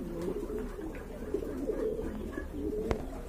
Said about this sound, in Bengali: এখানে কিন্তু আরেক জোড়া কবুতর রয়েছে